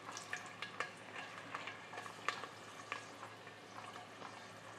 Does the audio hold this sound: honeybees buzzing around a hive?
no